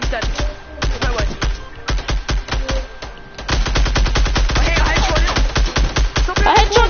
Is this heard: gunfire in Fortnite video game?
yes